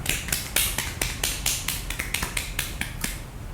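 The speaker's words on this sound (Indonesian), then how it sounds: "Beri aplaus untuk Umsida Usman" A small audience at a university event applauds a guest from Umsida with quick, evenly spaced claps that stay fairly faint and thin, with no talking over them.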